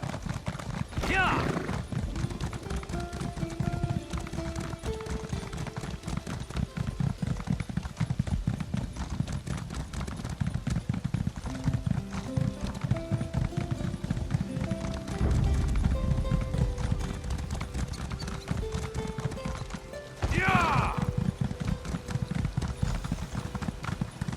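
Horse hooves clip-clop at a steady gallop while riding in The Elder Scrolls Online, loud and continuous with a brief whinny, under game music and people talking and cheering.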